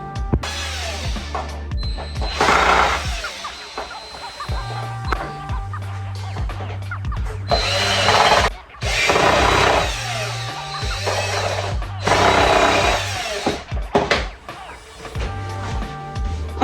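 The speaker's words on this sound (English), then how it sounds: "Let me go get my drill." A power drill whirs in several loud, close bursts of a few seconds each while assembling an electric standing desk, with clattering mechanical noise and a low hum between them.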